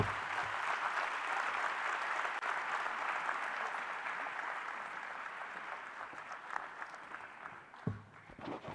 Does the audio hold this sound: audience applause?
yes